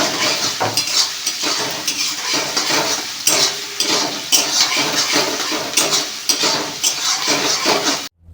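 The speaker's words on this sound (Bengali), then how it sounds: "ক্যাপসিকাম ও পেঁয়াজটা হালকা ভাজা হয়ে আসলে তার মধ্যে দিতে হবে আদা কুচি এবং তার পরপরই দিয়ে দিতে হবে রসুন কুচি।" Capsicum, onion, ginger and garlic are stir-fried for restaurant-style chili chicken. A spatula clanks and scrapes on the pan in repeated strokes over a steady sizzle, and no one talks.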